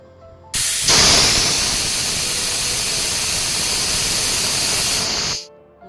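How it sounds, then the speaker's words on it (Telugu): A pressure cooker with chicken pulao inside releases steam in one loud, continuous hiss. It starts abruptly and holds steady for about five seconds before cutting off. "మూత పెట్టుకొని ఒక 3 విజిల్స్ వచ్చే వరకు వెయిట్ చేయాలి"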